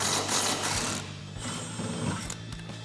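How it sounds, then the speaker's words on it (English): An impact wrench with a 15 mm socket removes the lower shock mount bolt on a Ford F-150, a loud, close, rapid hammering rattle running almost continuously with brief pauses and pulses. "So we have our impact with a 15 millimeter socket and an 18 millimeter wrench to hold the nut and take this off."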